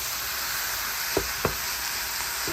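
Ground turkey browning in a pan for turkey chili, a steady soft sizzle with a few brief clanks of a utensil stirring against the pan.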